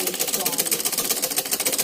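Antique pedal-driven Singer sewing machine running, a rapid, even mechanical clatter of needle strokes, close and fairly loud, continuing steadily throughout.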